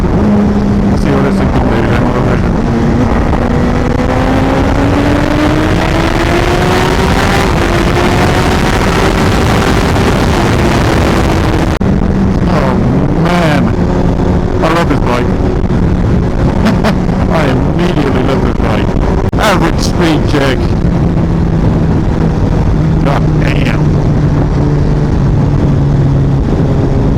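A 2016 Honda CBR1000RR Fireblade motorcycle accelerating, engine note rising and falling through gear changes, loud and close with heavy wind buffeting over the microphone.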